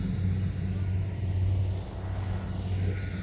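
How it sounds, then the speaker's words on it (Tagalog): Rice harvester machine crossing toward a paddy over a makeshift bridge, a low steady engine rumble with a deep hum that dips briefly and resumes, fairly close and continuous. "Ito na yung harvester papunta na dito."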